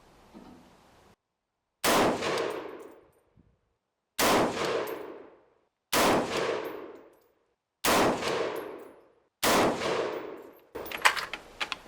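Five sharp FMJ gunshots from a PSA Guardsman pistol fired at a target, each a loud close crack with a ringing tail, evenly spaced about two seconds apart, followed by a brief clatter.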